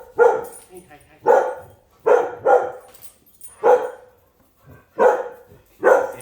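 Dogs bark loudly and close, about seven sharp barks in an uneven rhythm with short quiet gaps, some coming as quick doubles.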